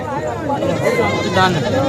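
Sheep bleat in quavering calls at a busy goat and sheep market in Sangola, heard close alongside talk and crowd chatter.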